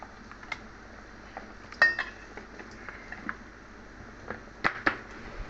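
A spoon clinks sharply against a container while stirring pickle, with scattered faint scrapes and a few louder taps against quiet room noise, heard close and without talk.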